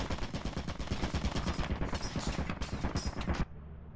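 Turret firing in Lethal Company: a loud, rapid, continuous stream of automatic gunfire for over three seconds that cuts off abruptly, leaving low background noise.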